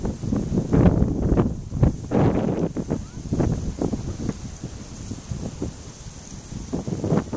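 Wind gusts blow across the microphone at a breezy park shoreline in Miami, producing steady rumbling buffeting that swells and fades in uneven waves for several seconds with no talk.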